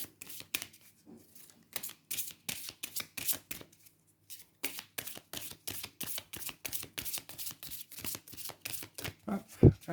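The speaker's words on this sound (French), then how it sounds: "je vais prendre une carte de l'oracle des ombres que je vais vous placer sur chaque choix" Oracle cards are shuffled and handled close up, with rapid papery riffles and flicks in bursts, a short pause, then more steady shuffling and a final louder tap.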